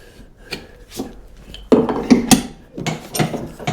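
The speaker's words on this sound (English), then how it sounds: "if you keep the chisel blade true and flat, the blade itself will find every discrepancy on this tenon" A steel chisel paring a wooden tenon flat, giving several short scraping, shaving strokes in uneven bursts, close and fairly loud, with quiet gaps between them.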